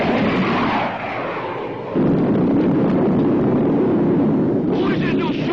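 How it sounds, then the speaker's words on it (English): Missiles launched in a 1954 science-fiction TV series, rendered as a loud sustained roaring whoosh that surges into a heavier rumble midway and keeps going, with no voices over it. "Try to fire 2 missiles on a 5-count, Biff."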